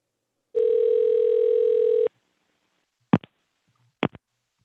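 Telephone tone on a council meeting call: a single steady electronic beep lasting about a second and a half, followed by a few sharp clicks in otherwise near silence.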